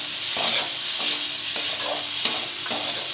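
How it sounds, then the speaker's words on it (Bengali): Curry with prawns being stirred in a pan after a splash of water, a loud steady sizzle broken by a regular rhythm of close spoon scrapes against the pan, with no voices. "সামান্য জল দিয়ে নেড়ে চেড়ে দেব।"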